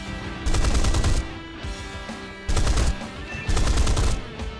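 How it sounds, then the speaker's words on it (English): Aircraft machine guns fire in War Thunder in three loud, rapid bursts, each lasting about a second, separated by short gaps of quieter engine drone. "Decide to shoot some MGs."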